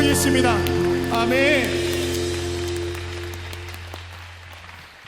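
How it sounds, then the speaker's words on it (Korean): A church congregation claps during a Korean worship service, a soft rain-like patter running under sustained keyboard tones and a voice, gradually thinning out over several seconds. "주님께 박수 한번 돌리겠습니다"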